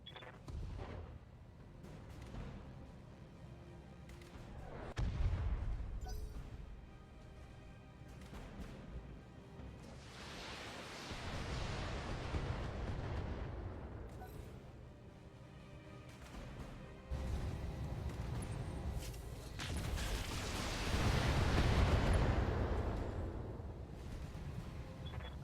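Battletech game battle with mech weapons fire and explosions, repeated heavy booms and rumbling blasts swelling and fading over a low background, moderately loud.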